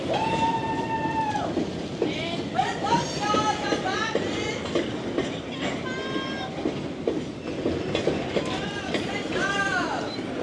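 A train passes close by with a loud, continuous rumble and rattling wheels, and high squealing tones rise and fall throughout, with a voice heard faintly underneath.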